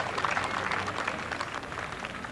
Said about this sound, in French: Ça suscite l'applaudissement quand même